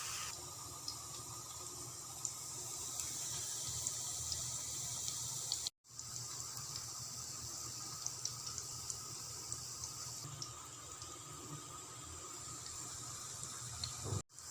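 Potato and onion pakoras fry in hot oil, giving a steady, dense hiss and crackle that holds level throughout, broken by two short drops to near silence.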